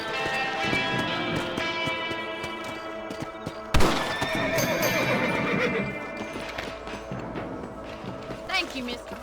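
Horses in the Red Dead Redemption game neigh and whinny loudly, with clip-clop hooves galloping, a sharp crash partway through, and people talking over the action.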